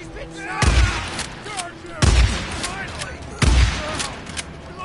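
Three loud, booming gunshot blasts from the video game Days Gone, spaced roughly a second and a half apart, each with a heavy low thump and a ringing tail over a busy in-game background.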